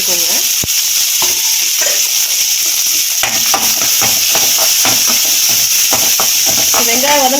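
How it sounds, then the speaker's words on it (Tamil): Chopped onions frying with spluttering fennel seeds in hot oil, producing a loud, dense sizzle with rapid crackles and pops throughout, while a voice murmurs faintly underneath, mostly toward the end. "சோம்பு வந்துட்டு நமக்கு பொரிஞ்சு வந்ததும் அரிஞ்சு வச்சிருக்க வெங்காயம் சேர்த்துக்கோங்க"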